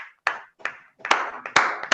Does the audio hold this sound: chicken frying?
no